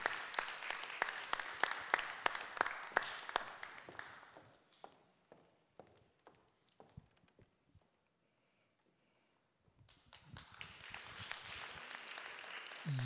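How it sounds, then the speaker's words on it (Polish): A stage audience gives scattered applause that thins into sparse individual claps, falls almost silent, then swells back into fuller clapping. "Ogromne brawa, jest pani Wanda"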